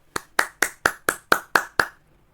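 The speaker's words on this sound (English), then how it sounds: "If you all are ready, so please clap." Students in a classroom clap together eight times in a quick, even rhythm, each clap sharp and distinct, then stop into quiet.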